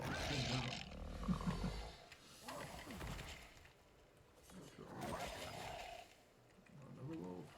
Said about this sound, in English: Another wolf.